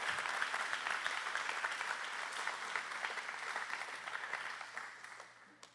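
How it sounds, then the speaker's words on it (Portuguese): A church congregation applauds during a sermon, a steady dense patter of many hands clapping that holds for several seconds and then thins and fades toward the end. "Pode aplaudir a Deus."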